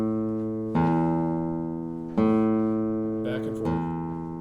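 Single bass notes on a classical guitar, from an exercise on Paganini's Romanze, are plucked one at a time at slow intervals, each ringing and fading before the next, close and moderately quiet.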